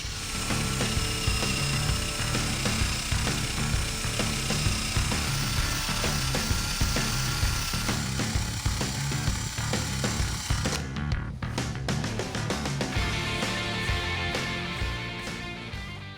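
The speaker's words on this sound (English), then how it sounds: "You can pick up these eraser wheels at any local parts store, and they make quick work of a tough job." A rubber eraser wheel on a power tool strips moldings off a Chevy race truck, giving a loud, steady whirring grind with rapid ratcheting texture, then the tool winds down near the end into spinning and clicking.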